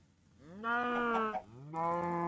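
A cow in a video game lets out two long, clear moos in succession, the second starting just after the first ends, loud and close with nothing else heard.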